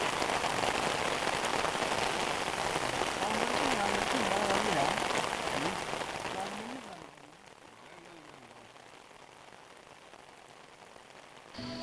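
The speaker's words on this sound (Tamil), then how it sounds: "என்ன மழை பாருங்க, அடின்னு அடிக்குது." Heavy rain pours down in Kerala, India, a dense, loud, steady hiss that drowns everything for several seconds, then drops to a much softer patter, with faint voices underneath.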